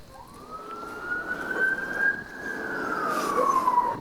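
An emergency vehicle siren at Black Rocks sweeps up in a single long wail, holds, then slowly falls, heard at moderate distance over faint background traffic.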